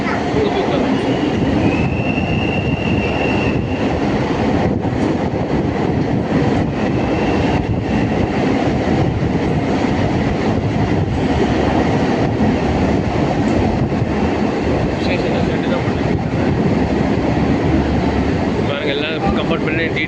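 MRTS suburban train running between Velachery and St Thomas Mount in Chennai, heard from inside the carriage as a steady loud rumble with occasional faint wheel squeals, continuous throughout.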